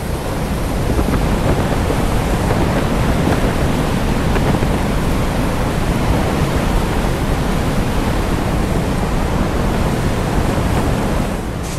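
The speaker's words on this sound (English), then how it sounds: "The wind's just ripping straight off the ocean here." Loud, constant roar of strong wind off the ocean buffeting the microphone during a typhoon, blending with the wash of ocean surf, with no break across the whole stretch.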